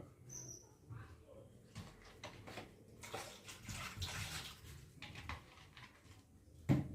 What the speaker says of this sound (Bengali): তার জন্য আমি একটু জল দেবো ডিমের মধ্যে